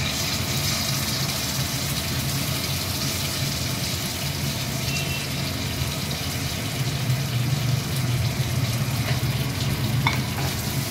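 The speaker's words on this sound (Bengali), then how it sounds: "এর মধ্যে এবারে একটু টমেটো পিউরি দিচ্ছি।" A pan of paneer curry sizzles and bubbles steadily as tomato puree goes in, a continuous close frying hiss with soft stirring and liquid sounds.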